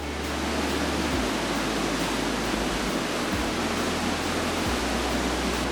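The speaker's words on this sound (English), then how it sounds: "the roar of the water here is unforgettable" Niagara Falls, the largest of its three waterfalls, gives a constant, dense roar of falling water that stays loud and steady throughout, with no voices on top.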